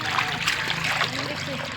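Water poured into a bowl set out for birds, a close, continuous trickle and light splashing with a person's voice talking over it.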